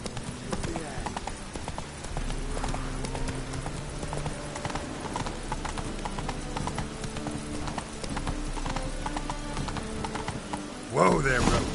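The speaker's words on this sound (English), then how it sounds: "Whoa there, Roach" Horse hooves clip-clop steadily at a walk in The Witcher 3: Wild Hunt, under game music and character talk, before the horse slows and stops with a short rustle at the end.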